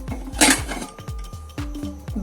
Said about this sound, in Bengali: প্রেসারের ঢাকনাটা খুলে দেখি আমার কেকটা কেমন বেক হয়েছে